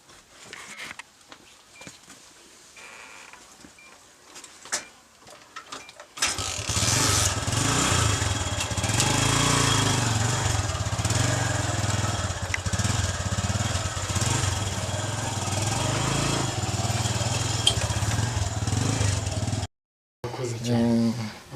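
A motorcycle engine turns over and catches after a few quiet seconds of light handling noises and talk. It then runs loud and steady at close range with a throbbing idle, cuts out briefly and comes back.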